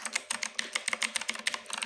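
Typing on a Redragon K552 Kumara mechanical keyboard gives quick, crisp, clicky keystrokes in a fast uneven rhythm, close up and moderately loud, with no voices.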